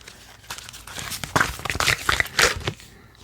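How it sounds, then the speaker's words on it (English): Tarot cards are drawn and shuffled from a deck during a love reading, giving a close, crisp run of papery crinkles, flicks and rustles of irregular rhythm that rise to a busier middle before trailing off. "now let's get at least 2 cards from this deck"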